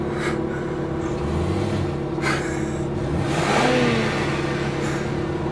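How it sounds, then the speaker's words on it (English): Another driver's car engine revving in traffic beside a low exotic car, rising and falling surges of acceleration over steady road noise, moderately close. "Revving his engine."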